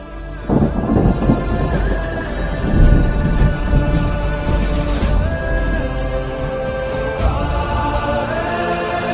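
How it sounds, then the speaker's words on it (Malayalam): Thunder rolls loud and close through a rainstorm, a deep sustained rumble with heavier booming swells over steady rain, continuing through the whole stretch. "നല്ല ഇടിവെട്ടാണല്ലോ."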